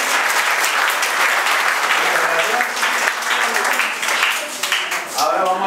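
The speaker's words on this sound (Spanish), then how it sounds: "Aplausos." Loud applause from an audience at a school student award ceremony, dense clapping continuing throughout with cheering voices mixed in.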